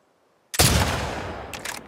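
A single loud, close gunshot in The Last of Us Part 2 with a long, rumbling echo that trails off, followed by a faint second crack.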